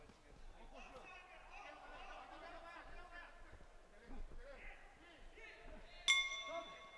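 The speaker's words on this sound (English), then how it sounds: "There goes the bell." A boxing round bell rings once at a quarterfinal bout, a sharp bright clang with a ringing tail near the end, cutting through steady arena crowd chatter and commentary.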